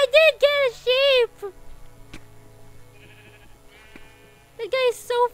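Sheep in the Minecraft video game bleat in a quick burst of three loud cries, then again near the end, with game sound effects in the quieter stretch between.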